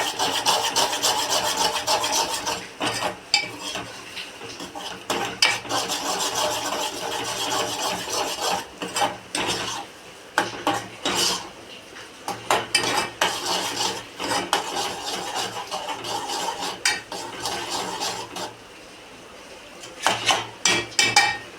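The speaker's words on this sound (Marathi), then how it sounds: "आपण चांगला फ्राय करून घेऊ हा मसाला त्याच्यामध्ये तेलामध्ये" Masala with chili powder frying in oil in a pan for a traditional Maharashtrian besan pola curry, stirred with steady scraping and rubbing of a spoon against metal, close and continuous with brief pauses.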